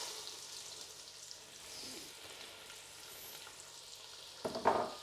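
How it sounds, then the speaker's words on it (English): Carrots tipped into a hot pan over medium heat for a homemade lamb stew, giving a faint, steady sizzle that builds to a louder burst of frying and stirring near the end. "I'm going to put in my carrots"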